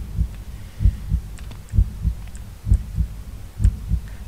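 Heartbeat effect from the video game Blood Omen 2, a deep, loud, close thumping in repeated lub-dub pairs at a steady slow rhythm, with nothing else over it.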